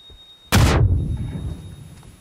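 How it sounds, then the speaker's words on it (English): A single loud frag grenade blast in the battle royale game PUBG, detonating indoors near a bathroom: a sharp booming burst with a rumbling low tail fading over more than a second. "Threw a frag in there."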